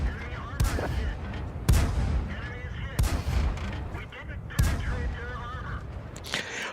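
Rapid-fire cannon shots from an AMX 13 57 GF light tank in World of Tanks, four heavy booming blasts spaced about a second apart with rumbling tails, loud and close.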